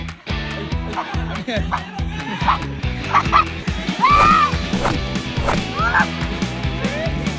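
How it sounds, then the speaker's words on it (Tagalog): A dog barks amid a lively outdoor bag race, the barks rising above a noisy crowd of shouting voices and a steady rhythmic backing. "May aso! Nakisali aso!"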